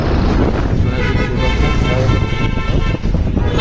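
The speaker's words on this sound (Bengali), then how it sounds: "ফ্লাইওভার উপর দিয়ে গাড়ি যাচ্ছে" Steady roar of heavy road traffic on the Sayedabad flyover in Dhaka, with car horns tooting now and then, loud and close, with wind buffeting the microphone.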